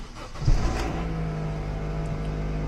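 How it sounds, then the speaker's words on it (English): A car engine cranks and catches with a quick burst, then settles into a steady idle close by. "Please start the ignition."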